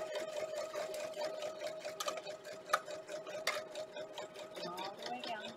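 A sewing machine top stitching a band onto a towel runs steadily up close, a continuous whirring hum with small clicks and ticks from the mechanism throughout.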